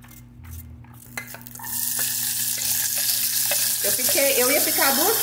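Rice sautéing in a pan: a few scraping stirs give way to a loud, steady sizzle up close. A faint voice enters over the frying toward the end.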